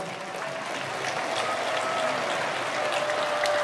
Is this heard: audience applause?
yes